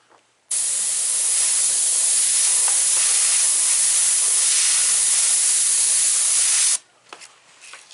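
Airbrush spraying paint to haze an edge: a steady, close hiss lasting about six seconds that starts and stops abruptly, then quiet handling noises.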